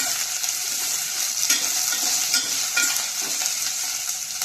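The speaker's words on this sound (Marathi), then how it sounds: "तेलात आपल्याला या मिरच्या 5 मिनिटं फ्राय होऊ द्यायच्या आहे" Green chillies fry in oil with a loud, continuous hissing sizzle, close up, with a few soft stirring knocks rising briefly above it.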